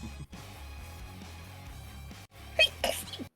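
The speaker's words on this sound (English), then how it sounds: "I really have to sneeze." A single sneeze bursts out near the end after a stretch of quiet background sound and a soft breath.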